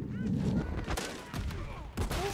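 Rapid gunfire crackles in bursts from the Modern Warfare 3 beta, mixed into game sound effects with voices talking over it.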